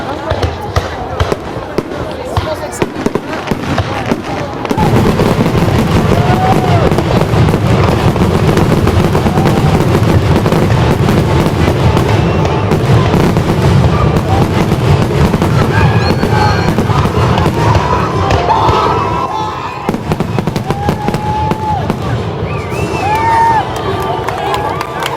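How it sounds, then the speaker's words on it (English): Fireworks fired from small ground launchers crackle and bang in a dense, loud, continuous barrage for most of the clip, with whistles and pops layered over a crowd, and quieter bursts at the start and end. "it's little launchers for the fireworks"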